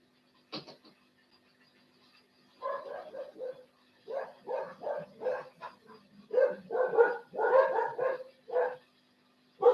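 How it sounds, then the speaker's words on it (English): A dog barks outside in repeated bursts, a sharp yip first, then clusters of barks growing louder toward the end, heard at a little distance with no talk. "That's my dog out there going off."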